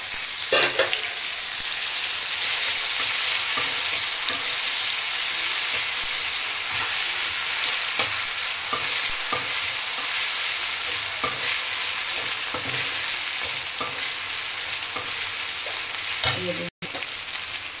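Garlic paste frying with garam masala in a pan gives a loud, continuous hiss and crackle with repeated stirring scrapes, close and steady throughout, and a sudden brief dropout near the end.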